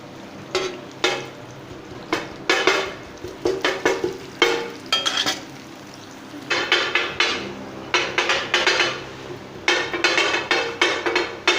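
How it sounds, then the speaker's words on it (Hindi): Onions frying in hot oil on a tawa, a sizzling bed under rapid, repeated metallic scraping and clanking of a spatula against the hot plate in uneven bursts. "अभी सबसे पहले इसमें मैं प्याज शामिल कर लेता हूँ और लाइट ब्राउन करके प्याज को मैं फिर इसमें अदरक लहसुन की पेस्ट शामिल करता हूँ।"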